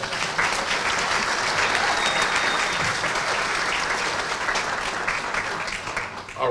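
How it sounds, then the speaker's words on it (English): Applause at a black tie gala benefit, a sustained wall of clapping from a large banquet audience, loud and even, tapering slightly near the end. "Give them a round of applause"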